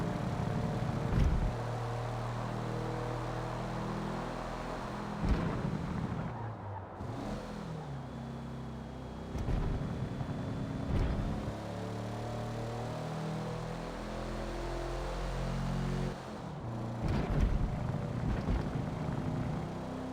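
An older car lugging its engine under load on a hot lap, low rumbling drone throughout with periodic heavier surges and bumps, close and steady with no talk.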